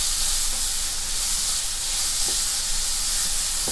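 Carrots sautéing in a pan for stuffed chapathi, producing a loud, continuous hissing sizzle with faint occasional scrapes, heard close up with no speech.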